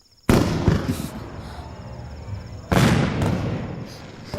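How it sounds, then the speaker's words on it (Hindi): Two loud, sharp firecracker blasts about two and a half seconds apart, each trailing off in crackling fireworks bursts and echoing rumble, with a steady high hiss in the background. "पटाखों की आवाज सुनकर ये दोनों रोने लगते हैं।"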